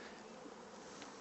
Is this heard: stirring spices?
no